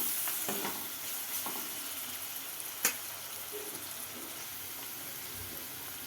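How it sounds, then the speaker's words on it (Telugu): Chopped onions with a pinch of salt fry in hot oil in a pan, giving a soft continuous sizzle at moderate volume with one brief clink, and no one speaks. "ఆనియన్స్ త్వరగా వేగనికి కొంచెం సాల్ట్ వేసుకోవాలండి."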